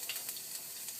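Minced garlic sizzles in hot olive oil, a soft, continuous crackling hiss close by with small pops.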